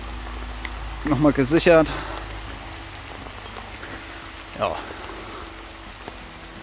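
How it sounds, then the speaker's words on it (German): Rain falls steadily in a forest climbing park as a soft, constant patter behind someone talking briefly, with a couple of short knocks and rope or gear sounds near the start. "Regnet immer noch."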